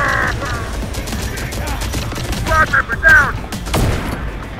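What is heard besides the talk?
gunfire targeting turrets in video game Terminator: Dark Fate - Defiance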